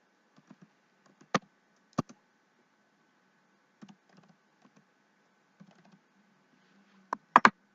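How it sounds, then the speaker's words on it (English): Sparse, irregular keystrokes on a computer keyboard while lyrics are entered into music notation software: scattered soft clicks with a few louder, sharper taps and a quick cluster near the end, close and otherwise quiet. "And then I can just type it in on the keyboard."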